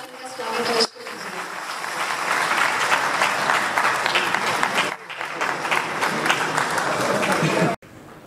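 A crowd at a Mokshayatan Yog Sansthan foundation day gathering in Saharanpur applauds to welcome guests, a loud, dense clapping that carries on for several seconds with brief dips.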